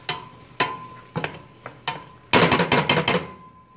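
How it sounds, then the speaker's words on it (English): Utensil knocks and scrapes in a pan of sauteing onions, a string of sharp taps spaced about half a second apart, then a quick burst of rapid scraping stirs, with a faint steady hum underneath. "And I got my onions sauteing right now."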